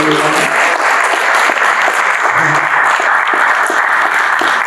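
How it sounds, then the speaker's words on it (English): Audience at a Native American Heritage Month celebration gives a loud, continuous round of applause for women's traditional dancers, dense clapping with a few distinct nearby claps and no talking. "Give them a round of applause."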